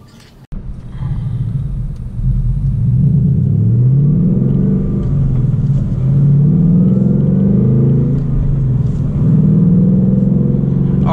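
Manual Ford Mustang GT out on a drive, its engine rumbling steadily and revving up and down in waves throughout, loud and close with no talk.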